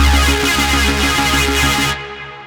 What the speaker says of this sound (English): I've also got some delay and some reverb happening as well